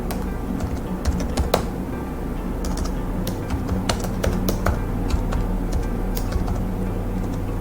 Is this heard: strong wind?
no